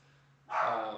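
A dog lets out one sudden loud bark midway after quiet room tone, ringing briefly before fading.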